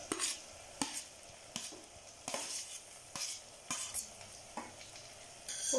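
Mashed potato being stirred into a sizzling tomato masala in a pan for potato kurma, with repeated scraping stir strokes at a steady rhythm over a constant frying hiss, close and moderately loud.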